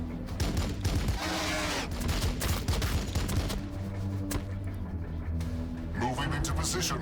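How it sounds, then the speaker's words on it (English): Scattered gunfire in a Warhammer 40K Blood Angels battle, mixed into a busy game soundtrack with rumbling and music, steady and moderately loud throughout. "I think we should just open fire on everything"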